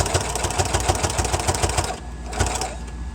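A sewing machine stitches face mask fabric with a steady, fast mechanical clatter close up, pausing briefly near the end before starting again.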